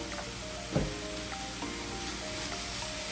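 Banana flower thoran sizzles in a hot pan while being stirred, with a constant frying hiss and a couple of soft scraping knocks from the spoon.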